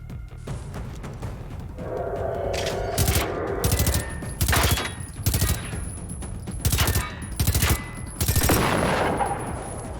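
Bursts of automatic gunfire from a weapon in the Generation Zero video game, several loud rapid volleys spaced through the scene over a low ambient rumble.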